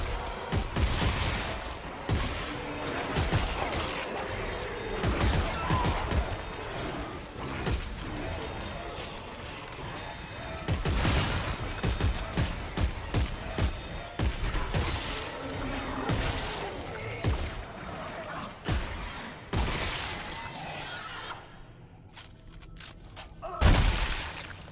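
Weapon fire in Dead Space 3, with repeated sharp bursts and crashes over a dense game soundtrack throughout, ending in a loud final boom.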